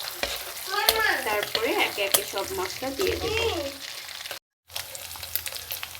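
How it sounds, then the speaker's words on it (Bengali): Prawns fry in hot oil in a wok with a bright, crackling sizzle and stirring noises, while someone talks over it, followed by a brief silence and then the sizzle resuming. "আমি কড়াইয়ে তেল গরম করে চিংড়ি মাছটাকে প্রথমে একটু ভেজে"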